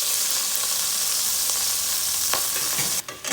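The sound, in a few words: vinegar added to sofrito sizzling in pan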